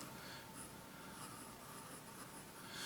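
An Indian eyedropper fountain pen with a stubby nib scratches faintly and continuously across paper, close and quiet, with no voices.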